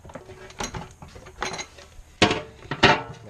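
Metal fire pan for a brazier being unpacked, with sporadic clinks, rattles and knocks of metal parts and packaging, close and irregular with quiet gaps between.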